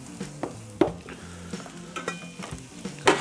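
A utensil scrapes and taps against a hot griddle top on a Camp Chef Explorer camp stove while seasoned fatty pork fries, giving irregular clinks and scrapes over a soft, steady sizzle.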